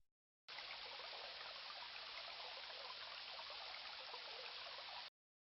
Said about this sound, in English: A small spring bubbles up from the rocks here and splashes into the lake.